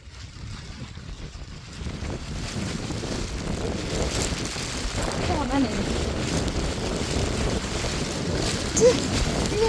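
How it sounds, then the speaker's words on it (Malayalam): Strong wind buffeting the microphone in the middle of a hanging bridge over a river during heavy rain, a continuous rushing roar that grows louder toward the end, with voices faintly mixed in. "ഹാങ്ങിങ് ബ്രിഡ്ജിന്റെ നടുക്കാണ് നല്ല കാറ്റ്"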